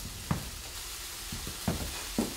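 Onions hitting a hot frying pan with garlic during steak cooking, giving a soft, continuous sizzle broken by three brief scraping clatters of a utensil, close but fairly quiet, with no voices.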